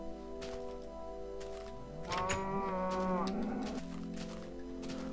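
A cow moos from about two to three and a half seconds, a drawn-out call over steady game background music in the horror-themed Minecraft modpack Horrorcraft.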